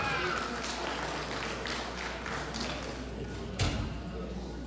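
An audience claps for Sanjay Sikdar, who played percussion at a Boishakhi cultural stage programme. The applause is a steady, moderately loud patter that runs throughout, with one sharper thump near the end.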